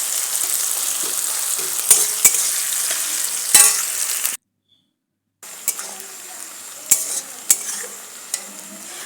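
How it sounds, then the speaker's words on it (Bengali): Onions and chilli frying in hot oil with cumin seeds, a continuous close sizzle with sharp stirring clinks and scrapes, interrupted by a second of silence midway. "তেলটা খুব ভালোভাবে গরম হয়ে এসেছিলো, জিরেগুলোও ভাজা হয়ে গেছিলো। তারপর দিয়ে দিলাম পেঁয়াজ"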